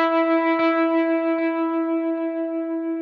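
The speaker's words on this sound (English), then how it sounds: "And then last, to give this extra effect on this intro, is the tremolo." An electric guitar intro tone holds a steady, harmonically rich sustained note with a gentle wavering tremolo pulse in its volume, while faint delay repeats echo at regular intervals, played alone and close.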